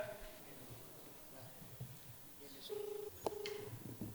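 Telephone keypad tones sound as a phone is dialed on speakerphone during a call-in quiz, a few steady beeps near the end after faint background murmur.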